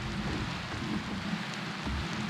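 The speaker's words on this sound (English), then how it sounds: "Because this is hail." Hail falls in the video game Go Wayback!, heard as a faint, steady hiss of pattering impacts with low rumbling underneath, continuous throughout and without speech.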